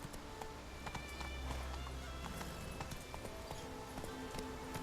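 Hooves of the horse Roach clop at a galloping run in the video game Witcher 3, a quick steady rhythm under game ambience and faint voices.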